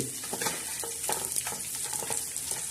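Onion and tomato fry in a hot tempering for bitter gourd chutney on a griddle, giving a steady close sizzle broken by scraping strokes of a stirring spoon.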